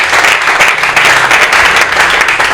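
Live audience applause at a comedy show in Lubumbashi, a dense, steady wash of clapping from a crowd held at an even level throughout, with no gaps and no voice rising above it.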